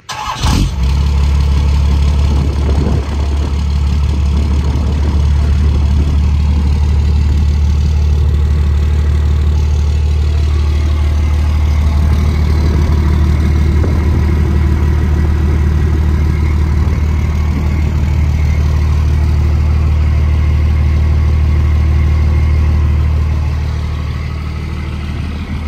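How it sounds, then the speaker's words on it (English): First-generation Cummins 12-valve diesel engine starting and then idling, a loud, deep, steady rumble close up that runs on without a break. "Give you guys a little idling note. See how it sounds at idle."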